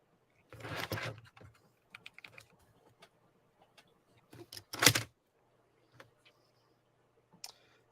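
Computer keyboard keys pressed to check that they work, sparse scattered clicks and taps with a louder burst of clatter early and near the middle, then isolated single keystrokes, with no talking.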